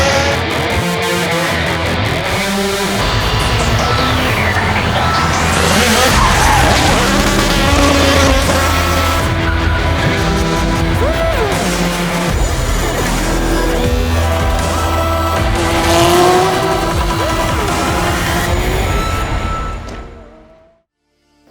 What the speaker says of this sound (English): Would you listen to that? The Goodwood Hill Climb, containing IndyCar legend Dario Franchitti